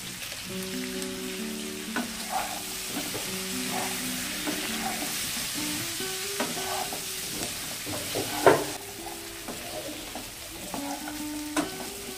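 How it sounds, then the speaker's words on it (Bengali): Taro (kochu) with turmeric, salt and chilli frying in a pan as it is stirred, a steady close sizzle broken by scraping stirs and a sharper clatter near the middle. "কচুগুলোকে আমরা বেশি ভাজবো না।"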